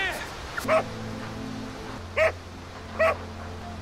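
A dog gives three short yelping barks spaced apart, over a low steady hum, with a brief voice-like sound at the start.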